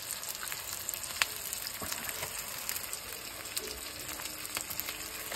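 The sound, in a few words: goat head frying with onions in oil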